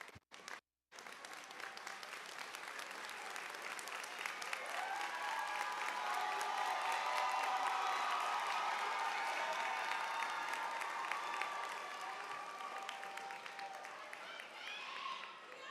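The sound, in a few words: audience applause at a graduation ceremony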